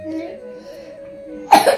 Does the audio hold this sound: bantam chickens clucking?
no